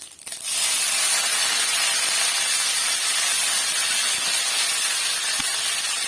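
Curry leaves and urad dal hit hot oil in a pan, bursting into a loud, steady, sizzling hiss that starts abruptly and holds close and dense throughout, with no voices.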